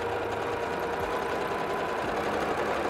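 Close, steady buzzing whir of a sewing machine running nonstop as it backstitches back and forth over the tab of a batik tote bag.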